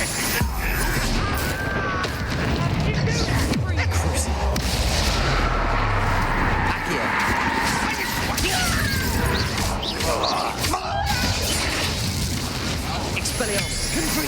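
Spell explosions in the Hogwarts Legacy video game, heard as a dense, loud barrage of booms, crashes and impacts during a battle, with continuous game music and effects filling the whole stretch.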